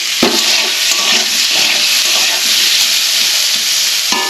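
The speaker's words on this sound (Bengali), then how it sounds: "কড়াইতে তেল দিয়ে নিয়েছি এবার আলুগুলো ভেজে ফেলবো" Potatoes frying in hot oil in a wok: a loud, steady, close sizzle that continues without a break.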